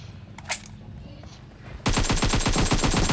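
Rapid automatic gunfire in a PUBG team deathmatch, a dense burst of shots starting partway through and continuing loud to the end, after a quieter stretch of game ambience with a faint voice.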